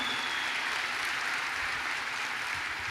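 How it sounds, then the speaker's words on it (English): A conference audience applauds, a dense steady wash of many hands clapping that holds evenly throughout, with no speech over it. "One more round of applause to Gary Vaynerchuk, please"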